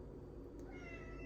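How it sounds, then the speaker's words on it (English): A pet cat meows faintly indoors, a short soft call over a steady low background hum. "Excuse my cat."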